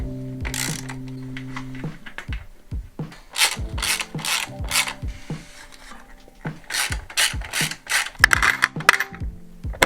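Ratchet wrench loosening the brake caliper bolts on a KTM 990 Adventure motorcycle: repeated bursts of quick, close metallic clicking with short pauses between strokes, and no talk.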